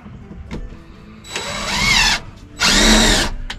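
A power drill drives a screw into a wall stud, giving two short whirring bursts of a couple of seconds each, close and loud, with brief clicks and a pause between them.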